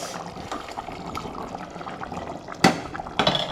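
Hot water splashes and pours into a pot of chicken in a couple of short bursts, over a background of bubbling and kitchen noise.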